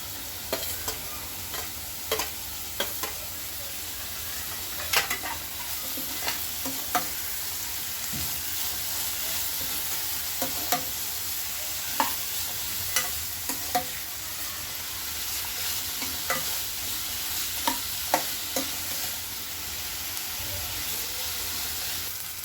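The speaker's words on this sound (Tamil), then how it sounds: "பீட்ரூட் போட்டு அந்த வெங்காயத்தில் வதக்கணுன்னா" Chopped beetroot sautéed in a pan with onion, oregano seeds and black pepper powder for red pasta: a steady close sizzle with irregular scraping clicks of a stirring spoon throughout, no speech.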